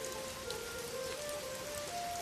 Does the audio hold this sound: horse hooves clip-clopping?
no